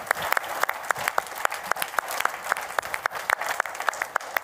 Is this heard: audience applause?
yes